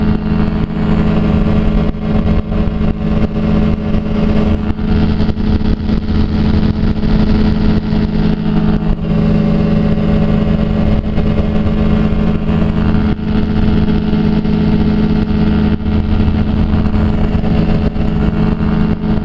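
A light aircraft engine drones loud and continuously in flight with power reduced to about 6,000 RPM, a steady buzzing hum with no talk.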